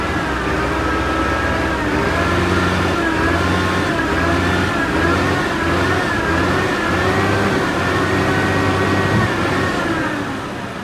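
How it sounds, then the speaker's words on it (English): A Howo right-hand drive 6x4 dump truck runs its engine in a steady, loud, close idle with a rhythmic low throb and a slight swell in revs, continuous throughout with no talk. "Today I will show you our Haowo right-hand drive dump truck."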